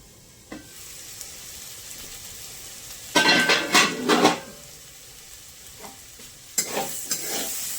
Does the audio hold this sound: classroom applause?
no